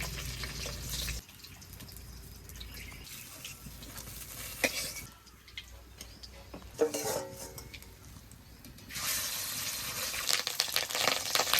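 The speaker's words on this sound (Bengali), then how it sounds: "ডিমটা ভেজে নেব।" Silver carp roe fries in hot oil in a pan, a loud broadband sizzle that drops to quieter stretches in the middle with a few clatters, then swells back up, with no talk.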